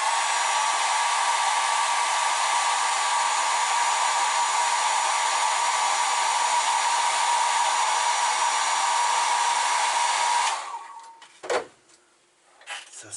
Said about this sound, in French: Je mets un petit coup de sèche-cheveux.